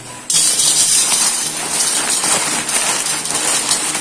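Puffed rice for street-style masala pori is poured into a bowl, a dense, steady rustling hiss that starts abruptly and continues loud and unbroken throughout.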